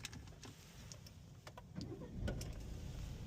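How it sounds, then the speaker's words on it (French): Citroën Berlingo III BlueHDi diesel engine starting: a quiet starter whir and click followed by the engine catching into a low, steady idle close by, with no speech. "Donc vous voyez déjà le véhicule il démarre au quart de tour."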